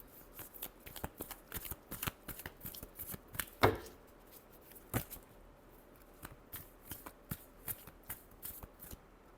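Tarot cards are shuffled by hand in a quiet room, a run of soft riffling bursts and taps with one louder snap partway through, close and alone without talk.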